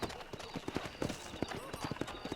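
Horse hooves clip-clop in the Red Dead Redemption video game, a quick, uneven run of close hoof strikes over a dense game soundscape with ambient noise behind.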